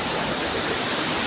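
Sea waves wash in at Palolem beach in Goa, a steady, loud, broadband roar of surf close by, continuous for the whole moment with no voices over it.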